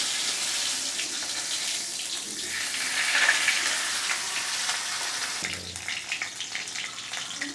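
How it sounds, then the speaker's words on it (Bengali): A fish head rubbed with salt and turmeric fries in hot oil in a kadai, giving a steady, loud hiss and crackle throughout that eases slightly toward the end. "আমি আগে মাছের মাথাটা নুন হলুদ মাখিয়ে রাখা মাছের মাথাটা ভেজে নেব।"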